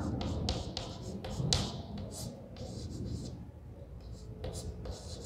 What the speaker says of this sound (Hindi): चलो हम यहाँ पे लिख लेते हैं